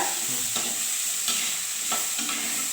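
Vegetables sautéing in a pan for jeera pulao, a steady close sizzle with a few soft scraping stirs at intervals, no voices.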